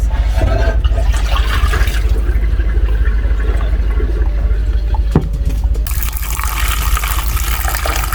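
Water splashes and pours loudly and continuously over salt mackerel, a close, rushing flow over something solid.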